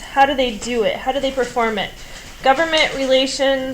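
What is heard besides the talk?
No distinct noise like a dog, phone or traffic.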